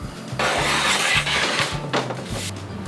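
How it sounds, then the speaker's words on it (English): Plastic panel sliding down a track into the frame of a 4'x2'x4' reptile enclosure extension kit, a steady scraping rub lasting a few seconds with repeated low knocks as it seats, close up and alone. "we're gonna start by inserting it at the top of the frame and sliding it all the way down"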